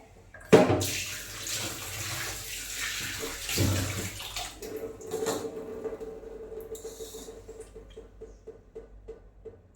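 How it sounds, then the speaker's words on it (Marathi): Mackerel rinsed under a running tap in a Konkan home kitchen, a loud gush of water that splashes and swells then eases, with sharp clatters of fish and a vessel near the start and light taps toward the end. "मी आता आधी हे स्वच्छ धुवून घेणार आहे"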